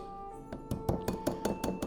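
A lemon zester is knocked against a surface to shake out zest, giving a quick series of about seven sharp, evenly spaced knocks close by, with a faint hum underneath.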